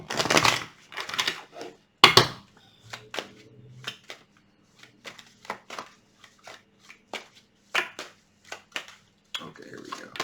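Rapid riffling bursts of cards being shuffled, several quick passes with short pauses between them, close and fairly clear.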